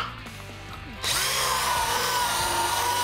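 Drill-mounted brass wire wheel scrubbing a snowboard base during a tune-up, a drill whining at low level before the wheel bites in with a sudden loud, sustained abrasive whirr, close and alone.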